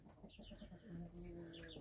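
A hen on a small farm clucks softly in short, faint bursts, close by in a quiet setting.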